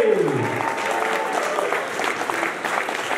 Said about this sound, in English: massive round of applause for Ari and Crazy!